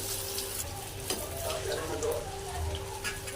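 Medu vada fry in well-heated oil over a low gas flame, giving a steady, soft sizzle and bubbling with faint clicks throughout, fairly quiet and close.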